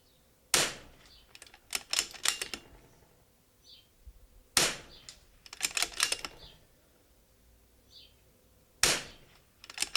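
Precision rimfire rifle firing at targets outdoors: three sharp reports spaced about four seconds apart, each followed by a brief scatter of clicks and rattles.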